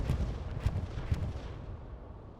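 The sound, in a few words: bombing and strafing run in a World War II video game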